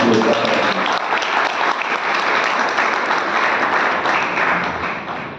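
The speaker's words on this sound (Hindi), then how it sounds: "ताली क्यों बजाई?" An audience at a Jain religious discourse breaks into sustained applause, a dense, loud wash of clapping that holds steady for several seconds before easing slightly at the end.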